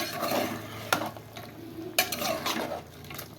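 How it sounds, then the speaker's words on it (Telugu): Chicken with chili powder being stirred in a pan for Telangana-style spicy chicken: soft scraping and a few sharp utensil knocks against the pan over a low sizzle, close and without speech. "కారం వేసుకున్న తర్వాత మరొకసారి కలుపుకున్నానండి చికెన్ని"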